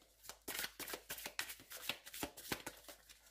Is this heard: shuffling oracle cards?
yes